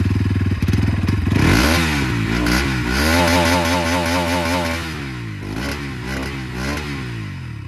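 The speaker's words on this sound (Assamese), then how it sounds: "এতিয়া আপোনালোকে আন্ডাৰবিলি এক্সজষ্টৰ মাতটো শুনিলে" A 2025 Bajaj Pulsar NS 200 with an underbelly exhaust, ridden on the road, pops as it starts up, then revs into a climbing engine note. It holds a steady drone before easing off into a few shorter throttle blips.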